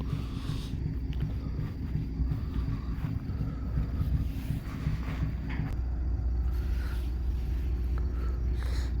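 A loud boat engine drones steadily on water at a campground, the third of three boats on the water, with a constant low rumble and some wind noise on the microphone.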